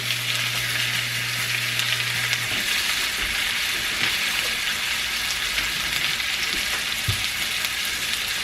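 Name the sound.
tilapia fish frying in a pan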